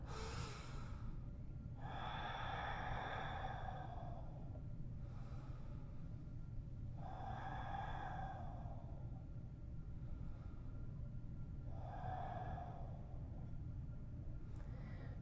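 Deep, slow breaths in and out while lying in a supine yoga twist, three long exhalations spaced evenly over a steady low background rumble, close and gentle, no talking.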